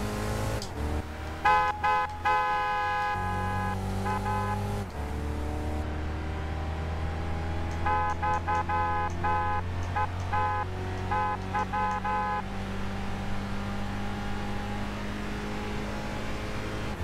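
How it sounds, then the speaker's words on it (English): Car horn in the video game Gran Turismo 6 sounding as repeated tonal honks in short bursts over a steady engine drone, in two clusters separated by a gap. "Honk the horn."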